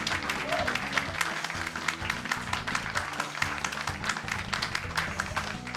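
A large live-event crowd at a speedrun marathon applauding steadily, dense continuous clapping close and loud throughout with scattered cheers.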